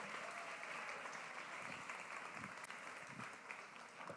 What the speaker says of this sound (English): Give a round of applause for East and West.